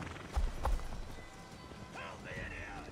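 Horse hooves clip-clop at a gallop in Assassin's Creed Valhalla, two heavy thumps early on under steady game ambience, with voices talking over the ride.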